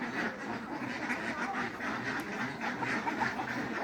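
A flock of farm ducks quacks constantly while eating a mix of paddy rice and feed, a dense, busy chatter of overlapping calls close by and steady throughout, with no voices.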